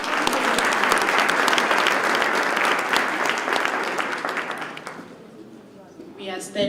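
Crowd applause at a Youth Month 2023 launch event, loud dense clapping for several seconds that thins and fades out near the end, followed by a voice starting to speak.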